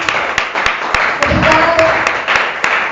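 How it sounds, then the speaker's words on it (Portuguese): A church congregation claps together in a steady, rhythmic beat, loud and close, with some voices mixed in under the clapping. "Aplaude o Senhor Jesus."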